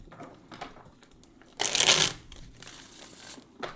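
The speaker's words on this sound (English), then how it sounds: "Let's do a couple shuffles here and get some oracle messages here." Oracle cards are shuffled close up, with a sharp riffle burst in the middle and softer rustling before and after.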